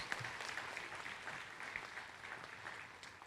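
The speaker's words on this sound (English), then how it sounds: "Can we give this graduating class a round of applause?" Faint, distant applause from an audience at a summer nursing pinning ceremony, a soft steady patter of clapping that slowly tapers over a few seconds.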